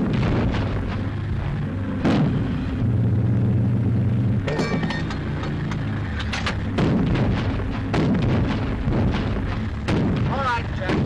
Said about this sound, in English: Are getting a double shelling.